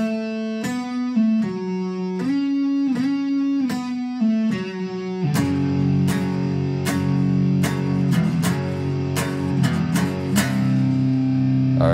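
A variation of a distorted electric guitar power chord riff: staccato chord hits open the phrase, then dense sustained power chords ring with repeated accents. It is loud and close, with no voice.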